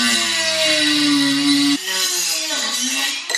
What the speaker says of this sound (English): Gonna go ahead and bust out the Dremel.